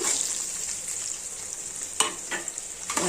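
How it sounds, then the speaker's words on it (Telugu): Onions and tempering spices frying in a hot pan, a loud continuous sizzle with several sharp crackles and stirring scrapes near the end, no voices. "ఉల్లిపాయలు వేసాను ఇవి కూడా వేపుకుందామండి ఈ పోపులు త్వరగా వేగాలండి"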